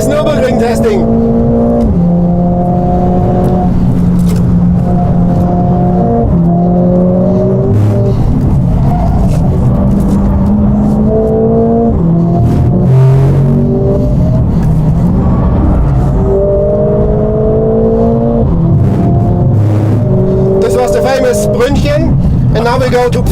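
A Mercedes-AMG car lapping the Nürburgring in testing, its engine loud and close, climbing through repeated gear changes with rising pitch, dropping and revving again over bumps and corners, while a person talks over the engine noise.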